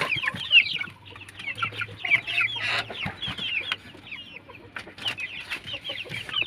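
Chickens cluck and chatter steadily in a backyard poultry yard, a busy overlapping flock close by, with no voices over them.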